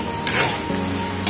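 Steady sizzling and crackling of chicken frying in a pan, with a couple of brief metallic scrapes from stirring.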